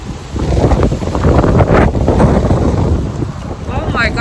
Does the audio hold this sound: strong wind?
yes